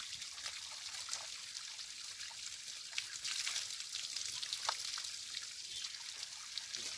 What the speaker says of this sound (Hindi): इसको पानी का धारा भी बोलते हैं।